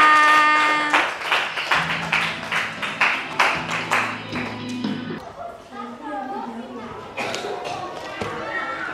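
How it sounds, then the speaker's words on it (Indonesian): A classroom of schoolchildren claps in a quick burst of sharp, close slaps for a few seconds, then the clapping stops and a teacher's voice carries on talking. "tepuk tangan lagi untuk kita semua"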